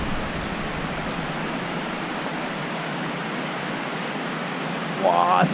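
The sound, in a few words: waterfall roaring at Yakushima, Japan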